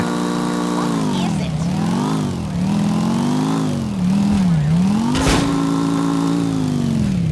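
A motorcycle engine in GTA Episodes From Liberty City revs up and down in repeated swells, loud and close, with a brief sharp burst near the end.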